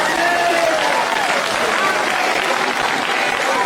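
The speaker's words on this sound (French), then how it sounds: "L'auditoire acclame et est en joie." Audience cheering and applauding at a religious gathering, a dense, steady wash of clapping and crowd noise with faint voices mixed in, filling the whole stretch at a loud, even level.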